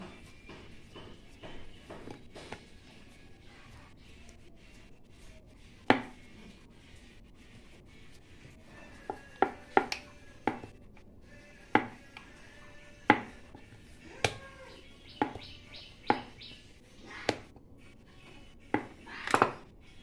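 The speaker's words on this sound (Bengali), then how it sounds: "আবার আমি কেটে নিলাম।" A knife chops through layered dough for gaja sweets in a series of sharp, separate knocks on a board, sparse at first and then coming about once a second, close and crisp in a quiet kitchen.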